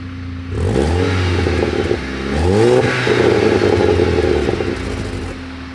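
A Volkswagen Golf 6 GTI with Stage 1+ tuning revs loudly up close in two rising sweeps, settling into a strong sustained engine drone.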